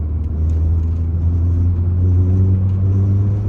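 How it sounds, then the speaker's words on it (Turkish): A Peugeot 206 GTi 135 hp hatchback engine hums with a deep, steady low rumble, heard from inside through an open window with faint road and wind noise, no talking. "Çok tatlı da bir motor sesi var arkadaşlar."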